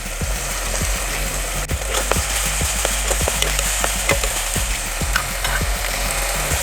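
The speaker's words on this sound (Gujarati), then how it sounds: "આ બંનેને પણ થોડી વાર શેકી લેવાનું છે હવે આપણે ટામેટાની પેસ્ટ એડ કરીશું" Spices and tomato paste sautéing for a Gujarati kala chana curry, a steady loud sizzle with repeated sharp scrapes of a spoon stirring the pan, no voices.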